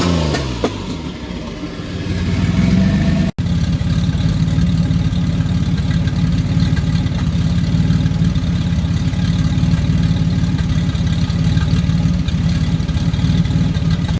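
A turbo 3800 engine swapped into a Pontiac Fiero idles loudly and steadily after a short uneven start, with a rough, busy rumble and loud lifter clatter, no talk.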